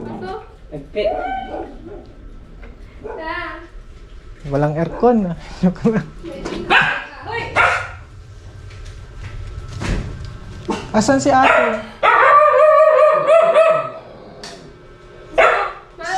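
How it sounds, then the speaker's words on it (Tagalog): A dog barks and yips several times nearby, its calls mixed in among people talking. "May aso."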